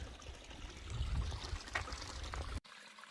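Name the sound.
small stream of flowing water on desert trail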